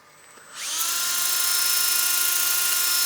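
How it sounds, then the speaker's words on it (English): A drill running a sanding pad at low speed against a wooden bowl spins up after a short quiet moment, then settles into a steady, fairly loud whine that holds without pause. "when I'm sanding with the drill, I want to drop the speed down"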